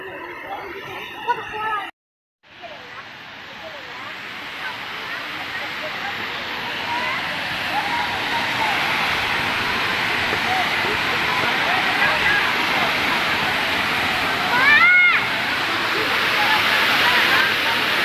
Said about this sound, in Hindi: क्योंकि झरने का आवाज़ बहुत ज़्यादा है।